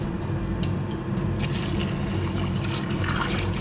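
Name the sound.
pouring cornflour mixture into boiling jaggery for halwa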